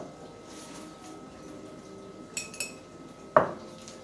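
Canned bacon spooned into a mason jar: a couple of light metallic clinks, then one sharper knock of spoon against glass, all close and quiet over a low steady background.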